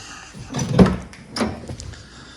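Interior door card being pried and pulled off a vandalised MG ZS during bodywork prep, giving two close, dull knocking clunks of plastic panel and clips about half a second apart, with no talk.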